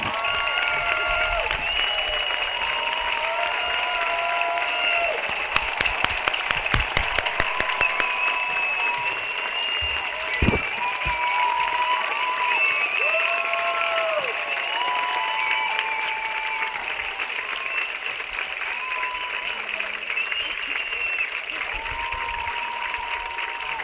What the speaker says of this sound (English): Please stand and join me in a round of applause.